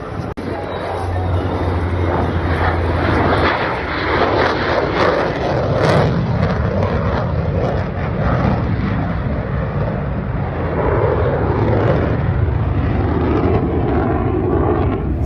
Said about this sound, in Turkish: Uçak çok güzel değil mi ya? Geçti.